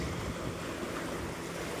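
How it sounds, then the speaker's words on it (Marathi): Ocean waves wash onto Kashid beach in a steady, continuous roar of surf mixed with wind noise on the microphone, holding evenly loud with no talk. "हा बघा बीच आहे, पाणी पिणी बघा"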